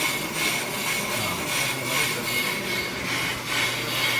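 A brake lathe cutter resurfaces a slightly worn, uneven brake rotor, producing a continuous gritty scraping hiss with a slow rhythmic pulse as the rotor turns.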